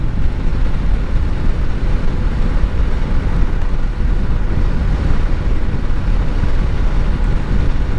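Several 2024 Kawasaki Ninja 500 KRT motorcycles ride off together, a steady, loud, broadband engine and wind roar that holds dense and continuous throughout with no talking.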